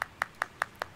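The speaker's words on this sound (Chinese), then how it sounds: "被拍手了" Clapping in the Animal Crossing video game: five short, crisp claps at an even, quick pace, clean and close with no voices.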